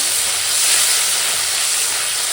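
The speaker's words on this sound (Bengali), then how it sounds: "তেলপত্তাটা শুধু ভাজা করে নিচ্ছি" Telpatta frying in oil in a pan, a loud steady close sizzle and hiss with no pauses.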